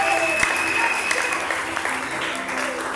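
A church congregation applauds with steady, dense clapping, joined by a few voices, and a held tone rings faintly underneath.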